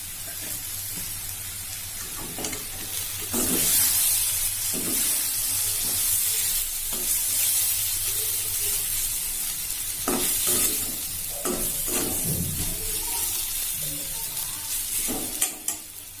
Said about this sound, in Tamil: தேங்காய் துருவல் போட்டுட்டு 1 நிமிஷம் நல்லா கிளறி விட்டு அடுப்பு ஆஃப் பண்ணிக்கலாம்